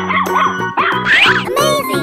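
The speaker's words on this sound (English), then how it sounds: "Dog." A dog gives a few close, loud yapping barks with whiny, pitched tones, a short burst of excited yips over about two seconds.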